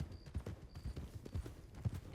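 A horse's hooves clip-clop in a video game, a quiet, uneven run of soft thuds at walking pace, faint and close, with a few brief higher tones.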